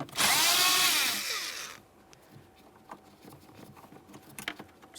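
A power tool spins out a 7mm mounting screw on a 2013-2020 Ford Fusion HVAC blend door actuator in a loud, rising whir lasting under two seconds, followed by faint clicks and handling noises.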